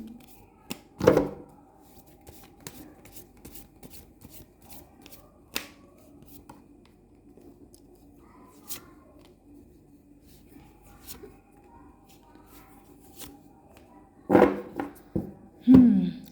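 Tarot cards are shuffled by hand, with short riffling bursts near the start and end and light taps and clicks scattered through a quiet room between them.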